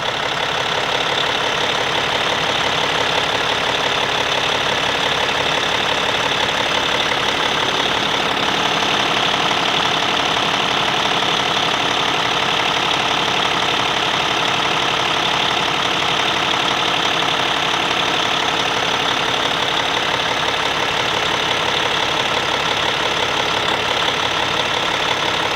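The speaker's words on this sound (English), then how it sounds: "Let me see if I can crank her up and show you guys how smooth she idles" A truck engine idling smoothly, a steady, loud mid-to-low rumble that runs unbroken and even for the whole stretch with no voices.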